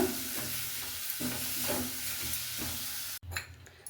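Spices being stirred as they roast in a hot pan, giving a steady dry sizzle and scraping with soft rhythmic strokes, close and fairly quiet, with no talk.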